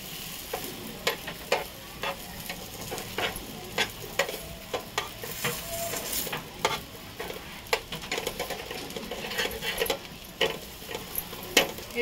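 Tandoori roti roasting on a large tawa over a stove gives a steady low sizzle, broken by frequent sharp taps and scrapes of the bread being pressed and turned, close and without talk.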